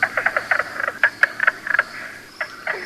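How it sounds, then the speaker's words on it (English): A mink frog calls in a spring Upper Peninsula wetland, a quick series of sharp, knocking clucks in uneven clusters, close and clear over a quiet background. "Right behind him, we might run into a mink frog"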